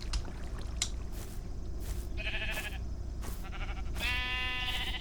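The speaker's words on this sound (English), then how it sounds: "Feed a sheep, I think, was next." Sheep in a video game bleat in several short, bright calls over a constant background hum and clicking.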